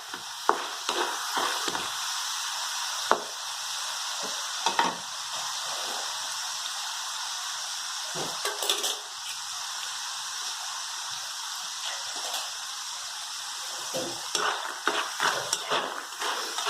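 Spicy sandge, small dried lentil dumplings, frying in hot oil, a dense continuous sizzle with occasional crackles and pops, close and steady, with no one speaking.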